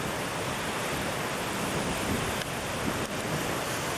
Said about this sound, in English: Some more big surf. Guess we estimate these are 12 to 8 foot waves.